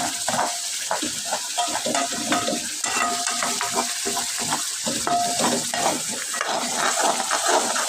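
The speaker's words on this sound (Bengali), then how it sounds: "ভালো করে মাছটা কষিয়ে নিতে হবে মশলাটা কষিয়ে নিতে হবে" Fish and spice paste sizzle and spit in a hot pan while a utensil scrapes and stirs repeatedly, close and busy, with steady frying noise underneath the irregular stirring strokes.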